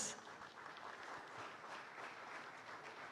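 Audience at a regional air and space power forum in Bali applauds steadily, a dense, even wash of clapping that holds for about three seconds without dropping off.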